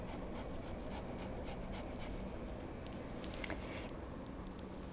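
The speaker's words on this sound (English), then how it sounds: "I just want to get some of this zest in there, because zest, I love zest in my stuff." A small zester scrapes citrus zest for hot spiced wine, with a steady, close rasping rub that repeats in quick strokes, loudest early on, then continues more softly.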